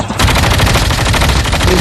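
Loud, rapid automatic AK-47 assault rifle fire in a video game rattles almost continuously as one dense burst of close shots after a brief quiet start.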